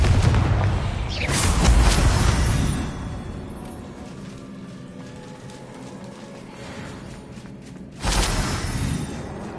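A booming Confringo blasting spell explodes in a video game, a loud burst at the start that rumbles and fades, then a second sharp blast near the end.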